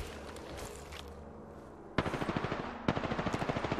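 Automatic weapon fire in Apex Legends comes in two rapid bursts after a quieter stretch, each a fast rattling string of close, punchy shots.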